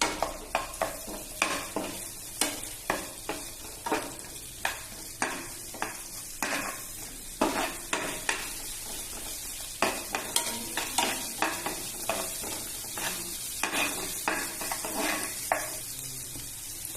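Two spoonfuls of oil sizzle and spit in a pan while spices are tempered for banana flower curry, with steady frying hiss broken by regular clinks of a spoon stirring against the pan.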